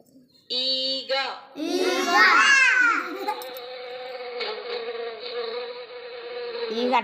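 A voice imitates a housefly's buzzing, a sustained nasal drone held for several seconds right after a short spoken word, close and fairly loud.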